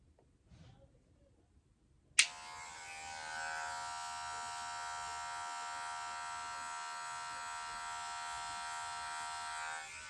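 Electric hair clippers switch on with a sharp click after a quiet moment, then buzz steadily and close while cutting a low-to-mid taper fade, the hum holding even for several seconds.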